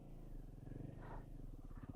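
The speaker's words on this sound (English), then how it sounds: "I'm using the engine to control myself going backwards" Motorcycle engine held at the clutch biting point while the bike rolls slowly backwards during a turnaround, a steady low idling rumble with slight rhythmic pulsing throughout.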